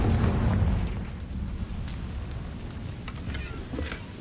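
A Confringo blasting spell goes off in the Hogwarts Legacy video game, a loud low boom at the start that rumbles and fades, with a few faint crackles trailing after.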